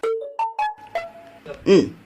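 A mobile phone text message notification tone plays as a short run of clear, rising electronic beeps, loud and close, followed by a brief burst of speech-like sound.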